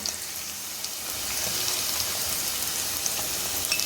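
Kashmiri chili powder fries with softened shallots in oil for a tomato fish curry, a dense, steady sizzle close by that swells a little louder partway through, with faint spatters and no talking.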